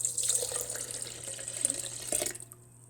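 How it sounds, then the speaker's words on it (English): Water runs steadily from a tap as it is poured into a sourdough starter in a kitchen, a continuous hissing, splashing flow that cuts off near the end. "Now I'm going to add water to it."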